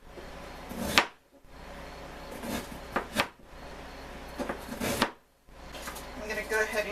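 A knife slices through raw chicken on a cutting board in a few sharp, close cuts spaced about every second or two, with quiet kitchen handling between strokes.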